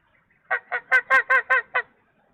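A bird calls in a burst of seven quick, nasal honking quacks from a played clip of ducks looking at a meteor, evenly spaced, loud and close against near silence.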